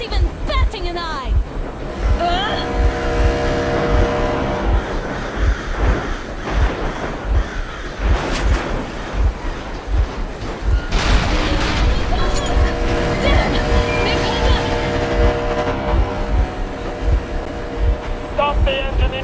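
A vehicle engine idles in Metro Exodus with a steady low rhythmic thrum under ongoing voices and game dialogue, along with scattered mechanical and ambient noises.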